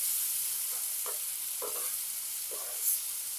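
Onion-tomato paste is stirred into a pan of bata fish curry with spring onions, giving a steady soft sizzle with a few quiet scraping stirs spaced through it.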